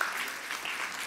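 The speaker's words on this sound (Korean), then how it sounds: "큰 박수 부탁드리겠습니다." A Korean church congregation applauds briefly during a Sunday service elementary-department graduation ceremony, a short burst of steady clapping from a crowd.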